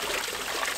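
Water pours steadily off a chute onto a microhydro waterwheel, a close, continuous splashing trickle with no voices.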